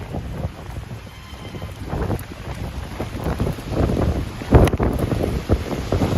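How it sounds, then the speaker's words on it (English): Wind gusting on a Manhattan street on a rainy day, a loud close rumble buffeting the microphone in uneven surges that build toward the end. "All right, the wind is picking up."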